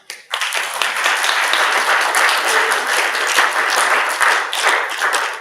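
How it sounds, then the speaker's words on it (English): An audience breaks into sustained, dense applause that starts abruptly and holds at full strength for several seconds, loud and close with no talk over it. "give yourself a pat on the back and a round of applause"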